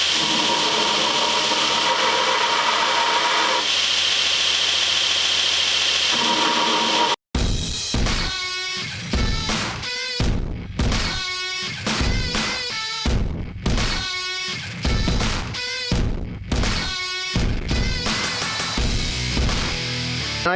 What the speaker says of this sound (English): So I'm going to go ahead and throw it on the grinder and see if I can get it to look a little bit better.